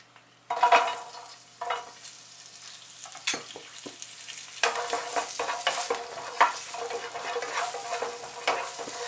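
Onion hits melted butter in a pan and sizzles close and steadily after a brief quiet start, with repeated scraping and stirring knocks running throughout.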